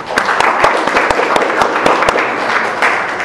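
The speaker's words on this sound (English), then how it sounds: "So let's give her a round of applause." Audience at a museum-sponsored evening lecture event applauding, a steady wash of clapping with a few sharper nearby claps throughout.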